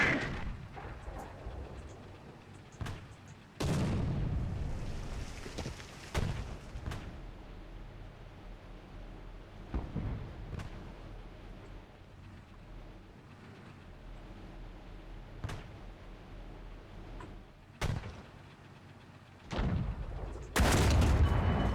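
Tank cannon shots in the War Thunder video game, each a heavy boom with a rumbling tail. Several spaced blasts come at irregular intervals over a low engine drone, with the last one loud and close.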